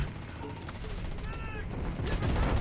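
Gunfire in the mobile shooter Delta Force Mobile, with heavy overlapping shots and battle noise filling the whole stretch and growing louder toward the end.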